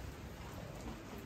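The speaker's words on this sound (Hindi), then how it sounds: "बारिश भी होने लगी है ये देखो" Rain falling outside a home, a faint, steady hiss with no distinct drops or voices.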